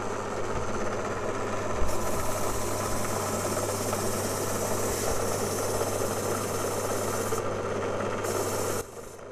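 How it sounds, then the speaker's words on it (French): A Parkside drill press spins a wire brush against an intake valve from a Citroën 2CV engine, giving a steady close scrubbing rasp over a constant motor hum that cuts off near the end. "tu prends la perceuse à colonne Parkside avec un embout brosse métallique"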